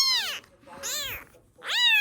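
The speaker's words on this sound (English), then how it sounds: "this little kitten crying for help behind a bush in the front yard" A small kitten crying for help from behind a bush in a front yard, giving three loud, close meows with clear harmonic arcs and short pauses between them.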